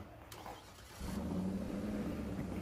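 A car engine in State of Decay 2 cranks and catches, then settles into a steady, fairly loud idle rumble.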